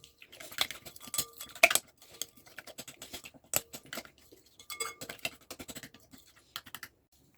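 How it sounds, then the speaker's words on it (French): Food is stirred and mixed in a bowl, giving a close run of quick soft scrapes, clicks and taps in uneven bursts with brief pauses between them. "Je vais bien mélanger."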